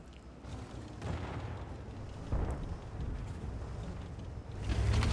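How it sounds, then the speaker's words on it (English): An artillery shell strikes an enemy STA tank in World of Tanks, a deep booming impact rolling out over rumbling battle noise, with another heavy thud building at the end. "Now the artillery, great shot, nailed the STA there for us."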